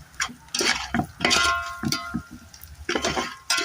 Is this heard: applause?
no